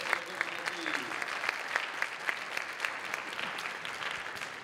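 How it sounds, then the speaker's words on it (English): Applause from the crowd at a hackathon closing ceremony, a continuous moderately loud patter of many hands clapping, with faint voices mixed in beneath it. "Give me a huge round of applause."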